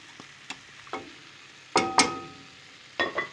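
Eggplant, onion and tomato frying in a pan give a low sizzle broken by several sharp clinks and scrapes of a utensil against the pan, a few louder stirring knocks in a row.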